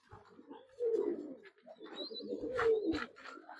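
Low, throaty cooing of pigeons close by, several rolling coos overlapping, with a few faint chirps in the background.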